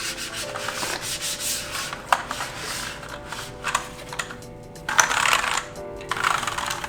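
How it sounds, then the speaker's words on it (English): A cloth rubs and wipes across a Keychron K2 mechanical wireless keyboard, close scratchy swishing strokes with occasional light keycap clicks and taps, quiet and alone without talk. "Let's wipe this down."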